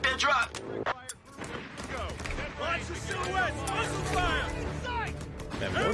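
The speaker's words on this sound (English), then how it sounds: "The mortars are insane." Mortar blasts and gunfire in the Company of Heroes 3 video game, a heavy opening impact followed by continuous scattered shots and rumbling, with voices shouting over the fighting.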